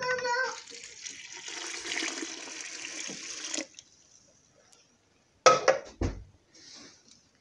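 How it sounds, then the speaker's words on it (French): A litre of water pours in a rushing stream into a pot of Moroccan-style lentils with tomato paste for several seconds, then stops, followed by a few sharp clanks of a pot or utensil and brief quiet. "je vais rajouter de l'eau"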